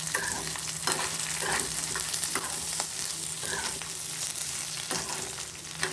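Garlic, mint and tempering spices sizzle and fry steadily in a pan for chutney, with a continuous crackle and occasional stirring scrapes, close and alone without talk.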